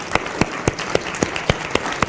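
In a TV political debate studio, guests are welcomed with clapping. The claps are sparse, sharp and evenly spaced, about four per second, fairly close, with no voices over them.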